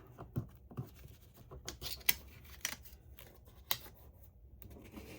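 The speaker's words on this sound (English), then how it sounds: "Take the sticker off." A sticker peeled off its backing during paper card making, heard as quiet, scratchy crackles and short papery ticks spread unevenly through a near-silent room.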